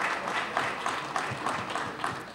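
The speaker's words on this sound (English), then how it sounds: "Say a little praise for him, a round of applause for him." A crowd at a televised public event applauds the Minister of Arts and Multiculturalism, a steady wash of many hands clapping at moderate distance, continuous for the whole stretch.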